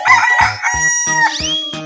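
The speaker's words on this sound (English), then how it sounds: "Chicken." Rooster crowing loudly and close in a children's animal-sounds sequence, a clear cock-a-doodle-doo in several rising and falling bursts with no talk over it.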